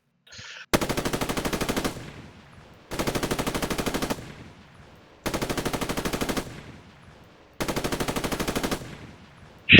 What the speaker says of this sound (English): Now traversing fire.